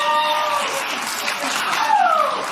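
Audience clapping at a stand-up comedy show, a dense steady wash of applause filling the whole moment with a few whoops and voices rising above it.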